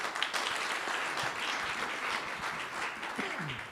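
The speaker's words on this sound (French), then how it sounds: "On vous applaudit d'abord bien fort." Steady applause from a seated audience after a speaker's talk on essential oils, moderately distant and even throughout, with a brief voice surfacing near the end.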